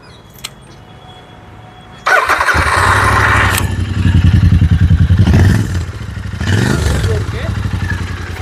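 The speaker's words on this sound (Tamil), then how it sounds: "இந்த வண்டியோட சைலன்சர், ஸ்டாக் சைலன்சர் எப்படி சவுண்ட் உங்களுக்கு பிடிச்சிருக்கா இல்ல?" A Royal Enfield Interceptor 650 motorcycle with its stock silencer starts after a short quiet stretch and settles into a loud, close, throbbing idle with a few revs. People talk over the engine.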